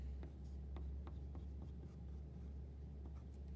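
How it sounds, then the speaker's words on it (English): A pencil scratches on paper in a quiet room, drawing stitch marks around a scarecrow's head with a string of short, soft strokes and taps over a low steady hum. "draw the stitch marks going all the way around the inside of the head"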